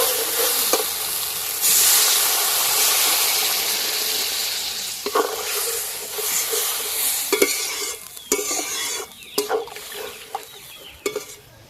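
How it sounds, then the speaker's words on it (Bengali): Water poured into a hot pan for a Bengali tangra catfish curry gives a loud, steady hiss and sizzle that gradually settles, broken by scattered clicks and stirring knocks toward the end; nobody speaks. "এবার জল দিয়ে দেব"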